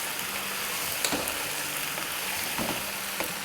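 Mutton pieces dropped into potatoes in a pot sizzle with a steady frying hiss, punctuated by a few soft clatters as the meat goes in, close and moderately loud with no talking.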